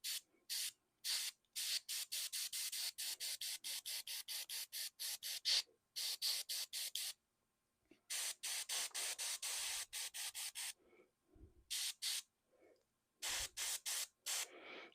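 Airbrush spraying paint onto Warhammer Ultramarines miniatures, a steady hiss that comes in many short, closely repeated bursts with brief pauses between them, near and fairly loud, with no talking.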